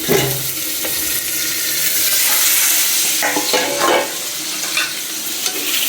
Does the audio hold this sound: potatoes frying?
yes